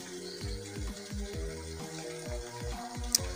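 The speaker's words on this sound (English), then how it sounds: "Then after that, you add water to it." Water pours into a chemical solution in a lab vessel, a faint gurgling stream with repeated falling glugging tones as the container fills, close and with no talk.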